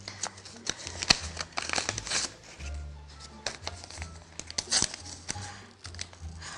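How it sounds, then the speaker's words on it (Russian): A paper seed packet of New Zealand hybrid delphinium is torn open and handled close up, with crisp tearing and rustling, scattered clicks and brief crinkles, and no speech. "Пока замачиваются таблетки, откроем пакет с дельфиниумом."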